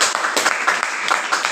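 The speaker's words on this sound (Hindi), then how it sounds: "हम चाहते हैं डायरेक्ट सेलिंग के लिए जोरदार ताली हो जाए।" A crowd at a direct-selling meeting gives a short round of applause, with uneven clustered claps rising and falling over a second or two, fairly close and loud.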